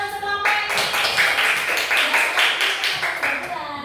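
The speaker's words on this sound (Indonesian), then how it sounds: "Iya, tepuk tangan untuk kelompok ini." Students in a classroom clap for a group after its presentation, a steady patter of hand claps from a small group that continues for several seconds, with voices underneath.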